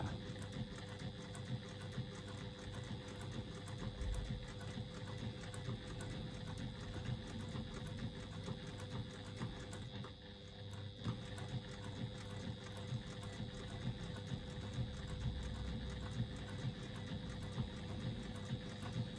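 A sewing machine fitted with a leather needle stitches steadily through real leather, a continuous mechanical whirr with dense rapid pulses holding even and close throughout, dipping briefly once midway before running on.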